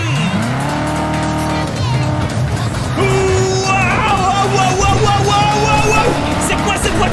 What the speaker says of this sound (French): C'est quoi cette voiture boostée aux hormones?